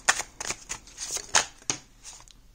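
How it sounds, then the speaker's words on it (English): Oracle cards are shuffled by hand in a series of crisp riffling bursts, about seven quick close-up rustles with short pauses between them, no talking. "When I shuffle the cards, I actually don't like to see them upturned or turn around."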